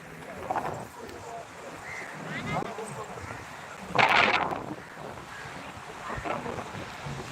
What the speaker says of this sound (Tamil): போட் எல்லாம் வந்துருச்சு பாருங்க